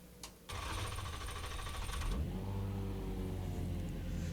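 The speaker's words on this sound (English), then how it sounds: "We fire the engine up" A Formula Renault 3.5 race car engine in the iRacing game cranks briefly with a high whine, then catches at about two seconds and settles into a loud, steady idle rumble that continues to the end.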